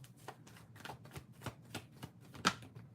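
Tarot cards being shuffled by hand, quiet repeated riffling and slapping bursts at a steady rhythm, close and soft with one sharper snap near the end.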